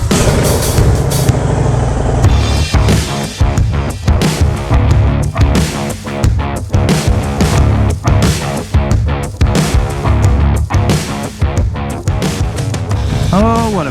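A Harley-Davidson Fat Bob motorcycle on the move, loud rumbling engine with repeated surges and dips as it rides along, close throughout, with a voice speaking over it.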